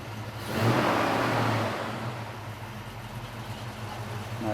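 A 1972 Ford Mustang Mach 1 engine revs loudly and close at a US car meet at a castle. One strong rev swells and then eases back to a rumbling idle.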